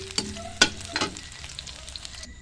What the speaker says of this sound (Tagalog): Tapos sunod ang ahos. Tapos hanggang sa maging brown na ang kulay niya.